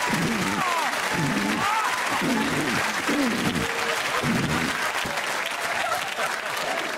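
Studio audience on a comedy panel show clapping steadily and loudly for about seven seconds, a dense sustained wash of applause with a few voices and cheers rising through it.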